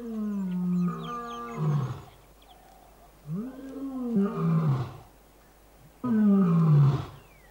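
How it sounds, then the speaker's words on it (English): A wild lion roars in three deep, heavy bouts, each swelling and trailing off into grunts, loud and close, with no talking. "From time to time, scent marking is reinforced by roaring, which can be heard for miles."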